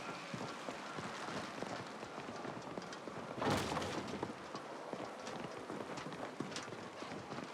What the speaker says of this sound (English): I can hear the rain and everything.